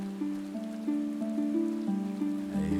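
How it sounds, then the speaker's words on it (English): Rain pattering steadily in the video game Final Fantasy 14, a soft continuous shower heard beneath a gentle repeating melodic game soundtrack. "Rainy."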